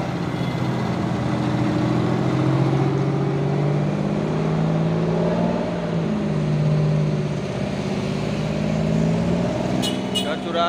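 A truck grinds up a steep hill road near Bukit Kodok with a steady, loud low engine drone that swells and fades slightly, carrying on for about ten seconds while a voice talks faintly over it.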